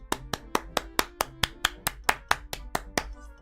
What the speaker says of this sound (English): I'll do the claps.